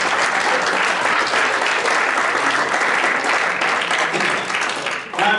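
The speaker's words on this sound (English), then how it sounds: "Please give a round of applause for both organizations." Sustained audience applause fills a hall at an urban scholars summit, a dense steady wash of clapping that holds loud for about five seconds before briefly dipping and swelling again near the end.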